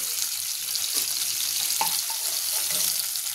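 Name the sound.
hilsa fish frying lightly in oil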